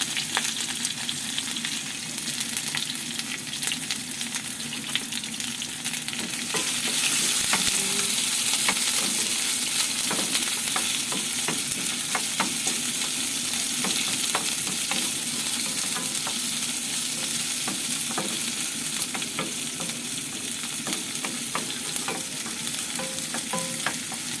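Onion sautés in a pan for a stir-fried vegetable dish, making a steady loud sizzle with frequent clinks and scrapes of a spatula throughout.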